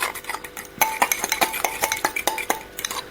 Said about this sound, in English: I'm going to give it that extra little stir to be going on with.